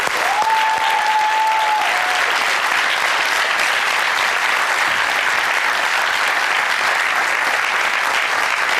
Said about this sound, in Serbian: molim vas veliki aplauz za ova tri momka